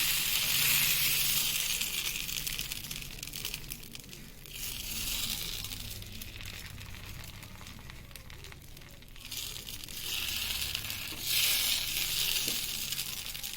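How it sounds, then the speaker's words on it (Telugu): Dosa batter for a Mysore masala dosa spread in a slow circle on a hot pan gives a steady, close, bright sizzle that swells and eases in waves, with no talking. "ప్యాన్ వేడయ్యాక ఇలా దోశ చేసేసుకోవాలి. ఇలా కొంచెం స్లోగా తిప్పుతూ వేయాలి."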